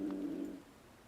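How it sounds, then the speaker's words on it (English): A cat calls out in theHunter: Call of the Wild, heard as a single short tonal cry at moderate loudness in the first half-second, fading into quiet wilderness ambience, with no talking. "I hear a cat."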